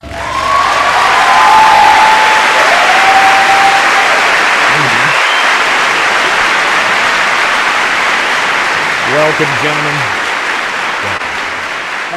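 A studio audience breaks into loud applause and cheering for arriving guests on a talk show, a steady roar of clapping and whoops lasting over ten seconds while a host briefly speaks over it.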